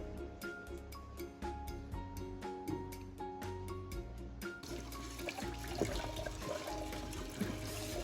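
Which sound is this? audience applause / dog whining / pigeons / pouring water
pouring water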